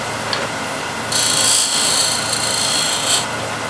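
A lathe tool's bevel rubs against spinning wood as a bead is shaped, making a steady close rasping hiss that swells after the first second and then holds for about two seconds.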